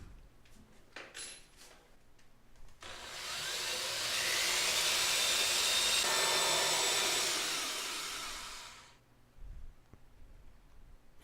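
A power drill drives screws into wood while a dance pad replica is built. A single sustained whirring burst of about six seconds rises and then tapers off, with faint handling clicks before and after.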